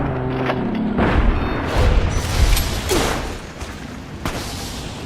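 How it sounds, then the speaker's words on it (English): Rocket explosions and booming blasts in the video game Fallout: New Vegas, a series of heavy thumps and whooshes over roughly five seconds amid dense game noise. "Oh my god, it's shooting rockets at me!"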